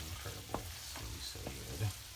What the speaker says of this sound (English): I'm just gonna stir it in